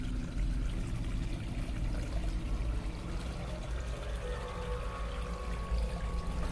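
A creek flows steadily nearby, giving a continuous, fairly quiet rush and trickle of water with no voices.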